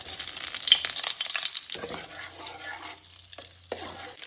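Butter and a tablespoon of oil sizzling and frying in a pan, a bright hiss up close with stirring scrapes, fading to quieter crackles.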